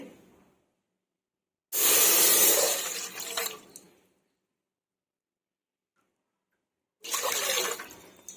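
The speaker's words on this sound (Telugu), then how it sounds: "5 గ్లాసుల వాటర్ వేసుకుందామండి." Water poured into a bowl-like pot on a stove for boiling vermicelli, two loud splashing pours of a few seconds each separated by silence, close and with no voice.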